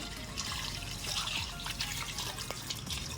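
Water splashing and trickling steadily, poured over about a kilogram of moringa leaves to wash them, with soft drips and faint clatter close by.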